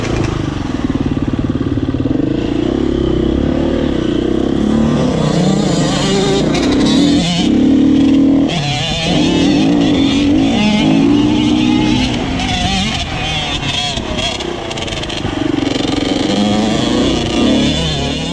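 A Yamaha YZ85 dirt bike rides around the Mt Kembla motocross track, its small two-stroke engine buzzing and revving up and down through corners, heard close along with a second bike following behind.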